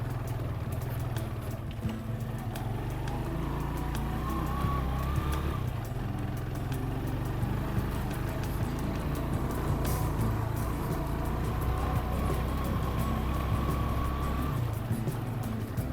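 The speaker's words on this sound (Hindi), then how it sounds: "ये मेरे ख्याल में एक चाइना बाइक है जिस पर 2 लोग जा रहे हैं।" A Chinese-made 70 cc motorbike carrying two riders passes on a mountain road near the Line of Control, its engine a steady close drone with a rising whine over a constant low rumble, and no talking.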